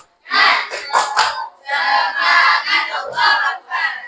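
A classroom of students performs a rhythmic spirit chant, shouting in unison with bursts of clapping in several loud phrases, near and energetic.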